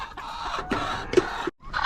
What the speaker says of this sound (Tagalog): yung mga manok, uh, tumutuka na sa kanilang water drinker